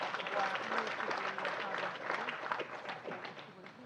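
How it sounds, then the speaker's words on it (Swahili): Members of the Tanzanian Parliament applauding in the chamber for the Speaker, a busy mix of clapping and voices calling out, with chatter running underneath the steady applause. "Tumpigie makofi mengi."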